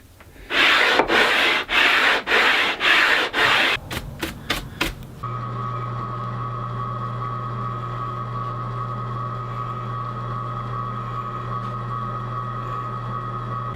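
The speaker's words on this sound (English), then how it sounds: "It's a fair amount of work to do this by hand, but really if you start off with a heavier grit sandpaper, 80, 100, it's not that bad." Sandpaper rasps back and forth in about a dozen rhythmic strokes along a wooden guitar neck, the strokes speeding up and shortening before they stop, leaving a steady background hum.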